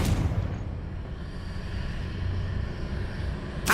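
A Confringo blasting spell in Hogwarts Legacy lands as a deep rumbling blast that rolls on for a few seconds, then a sharp burst hits at the very end.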